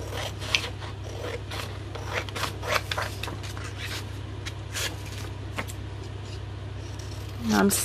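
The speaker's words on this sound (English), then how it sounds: "I'm just doing this one with scissors" Crisp scissor snips repeat irregularly, close by, over a steady low hum, with a louder rustle of paper near the end.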